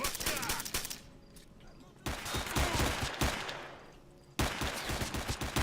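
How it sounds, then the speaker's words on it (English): Gunfire in the video game S.T.A.L.K.E.R., with a silenced pistol among it, comes in dense rapid bursts of shots that stop and restart several times, loud and continuous over a busy background. "The one guy has a silenced pistol is what's making that noise."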